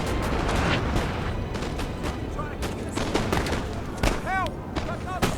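Dense battlefield gunfire from the Napoleon: Total War video game at the Battle of Waterloo, a continuous crackle of musket volleys and booming shots under brief whistling tones, with a voice talking over the barrage.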